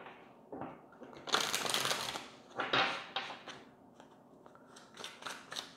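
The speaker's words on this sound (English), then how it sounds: "Let's get one shuffle." Tarot cards are shuffled up close in a few crisp, papery riffling bursts, with quieter handling noises between them and no talking.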